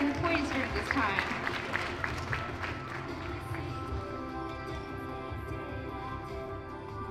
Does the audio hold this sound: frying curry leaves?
no